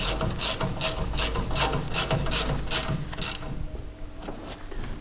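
A ratchet clicks rapidly in about a dozen quick strokes, tightening Terrafirma damper bolts on a Mitsubishi L200 4x4, then the sound falls away to quiet, with no speech.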